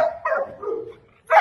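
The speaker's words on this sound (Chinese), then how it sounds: "三只小狗，现在已经20天了。" Twenty-day-old Staffordshire terrier puppies yip and whimper in short, close bursts, with a brief pause before a final sharp yip.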